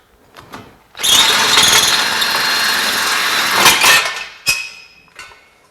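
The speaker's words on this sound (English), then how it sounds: "I'll take a fat drill bit like this, finish up the rest of the head" A power drill with a fat bit whines loudly for about three seconds drilling out pop rivet heads on a Mustang, then gives one short burst, with faint clinks before and after.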